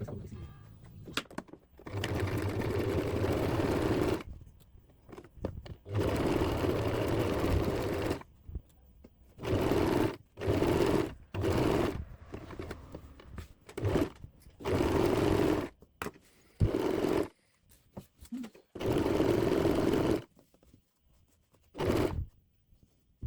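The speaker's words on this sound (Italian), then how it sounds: "quindi cucio l'arco tutto intorno con 1 centimetro di margine" A sewing machine stitches pocket bag fabric in repeated loud bursts of steady whirring, each running a few seconds and separated by short pauses.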